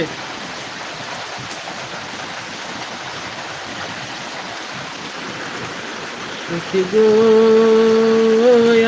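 Steady rain hisses in a continuous wash, then music with a sustained melody comes in over it near the end.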